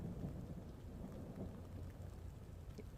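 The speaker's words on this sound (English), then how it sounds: "you can kind of hear it there in the background. That's thunder." Thundersnow in Aurora, Ohio: a low, rumbling roll of thunder during a nighttime snowstorm, heard faintly and continuously in the background with no voices.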